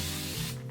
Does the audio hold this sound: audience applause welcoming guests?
no